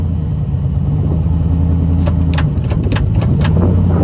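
A car engine idles just after starting, a loud, steady close rumble with a faint rattling ticking layered on top, alone without talk.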